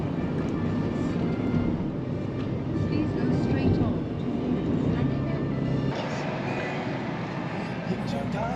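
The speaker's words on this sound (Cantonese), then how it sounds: "飛機嘅" Airplane flying low overhead near Narita Airport gives a rising, rumbling jet roar heard from inside a moving car, with road noise and people chatting over it.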